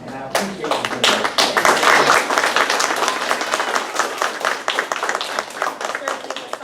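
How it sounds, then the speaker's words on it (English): A crowd at an elementary school kindergarten celebration claps in dense, steady applause that lasts several seconds. It is loud and fills the room, with some talking mixed in. "I stand up to applaud you"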